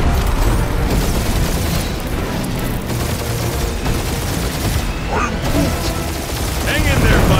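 Spaceship dogfight in Guardians of the Galaxy, with booming, sustained bursts of laser gunfire and explosions rolling continuously over a dense, loud battle backdrop.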